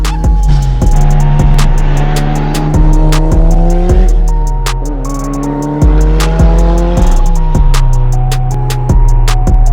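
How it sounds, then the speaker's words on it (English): A 350 bhp Mitsubishi Evo 7 with a screamer pipe drives hard on open roads, its engine climbing through the revs and cutting sharply between gear changes, loud and close, with pops and crackles on the overrun. "we're gonna go out and enjoy this screamer piped Evo"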